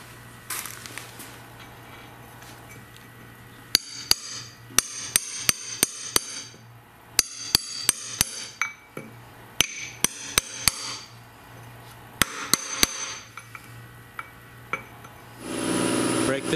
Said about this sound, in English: I'm gonna take a punch and a hammer and bend this other adjuster down.